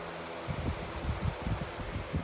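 Steady broadband whir of an electric fan running close by, with low rumbling thumps and buffeting underneath.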